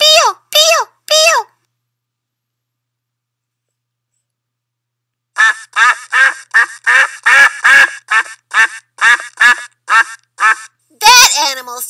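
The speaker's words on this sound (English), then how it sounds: "That animal says, quack, quack, quack." A duck quacks three times in a quick burst, then after a silence a rapid string of loud, close quacks follows.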